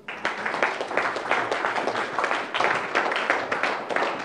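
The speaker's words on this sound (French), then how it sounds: "Là, vous avez applaudi" A church congregation applauding loudly and close, a dense, steady wash of many hands clapping in rapid overlapping rhythm throughout, with no speech over it.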